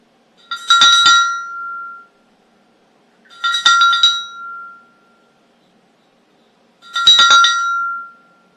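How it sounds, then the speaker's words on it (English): A bell rings three times at an even pace during a livestream, each clear metallic ring standing alone and fading into silence before the next. "let's do a bell ring for the Tubbs family"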